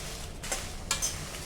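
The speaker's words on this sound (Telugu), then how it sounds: "ఇలా వేయించుకుంటూ ఉండండి. చక్కగా కొంచెం వేయించుకోండి." Dried red chillies and lentils are dry-roasted in a pan, with soft stirring scrapes and light rattles over a faint steady background.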